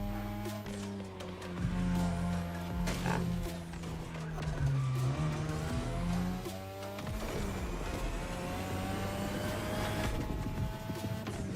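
Race car drifting in the video game The Crew Motorfest, a steady engine drone with shifting revs and tire noise running throughout, with music-like tonal layers underneath.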